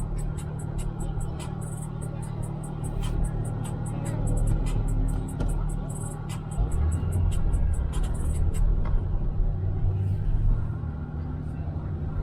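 A car that has just switched its fuel from gasoline to gas pulls away, a low steady engine rumble that swells slightly as it drives off, with indistinct voices faintly underneath.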